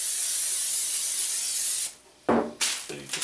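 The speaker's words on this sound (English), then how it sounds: "So you just kind of want to coat them with that butter spray." A long, steady hiss of a non-stick butter-flavored aerosol cooking spray, close and loud, followed by a couple of shorter bursts and handling noises.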